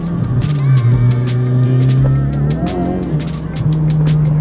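A 519-horsepower car, a Honda Civic Type R, drives down the road at night, its engine droning loud and close with rising and falling revs through gear changes, plus faint tire noise.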